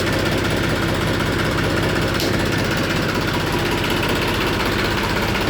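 A tractor engine running at a steady idle, dense continuous chugging and vibration heard close and loud throughout, with no talk over it.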